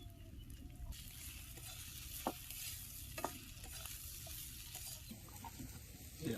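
Green chillies sizzle in a frying pan at an outdoor riverside camp cookout as they are stirred, a soft, continuous frying hiss broken by a few scraping knocks of the spoon against the pan.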